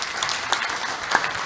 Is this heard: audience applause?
yes